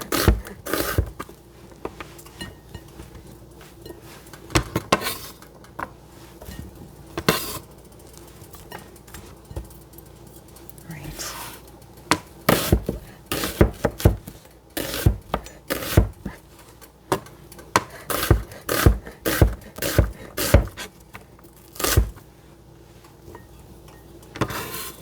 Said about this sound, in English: My onions are chopped.